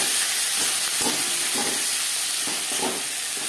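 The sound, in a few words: chopped onion and tomato frying in oil for tilapia curry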